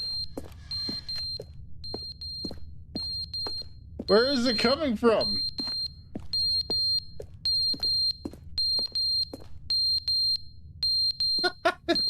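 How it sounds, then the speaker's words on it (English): Smoke alarm in The Stanley Parable video game, chirping in short, evenly spaced high beeps throughout, with someone talking over it and a brief burst of noise partway through. "The smoke alarm's going up, clock's falling off."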